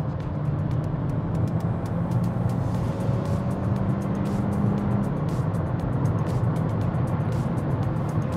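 A 2023 Changan CS35 Plus accelerates in manual mode, its engine producing a steady, loud, continuous drone with road noise that stays even throughout, with no talking.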